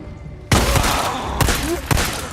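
Gunshots in the zombie survival game Days Gone: a sharp loud blast kicks in after a quiet start, followed by two or three further heavy shots with thuds in between, close and punchy.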